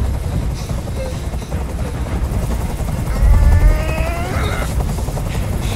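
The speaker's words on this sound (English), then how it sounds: "I can't stand that noise anymore. Tell that helicopter to get out of here." A helicopter in the video game Detroit: Become Human keeps up a loud, close, pulsing rotor drone throughout, with brief tonal game sounds rising partway through.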